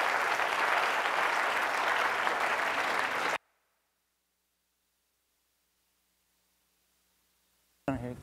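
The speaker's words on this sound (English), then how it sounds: "Give him a round of applause." Audience applause at a science talk in a theater in Oakland, California, loud and dense for about three seconds before cutting abruptly to silence, with a brief burst of voice at the very end.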